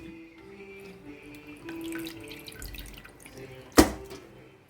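Beef pieces are washed in a kitchen sink under a running tap. Soft trickling and dripping build to one sharp splash near the end, with no talking.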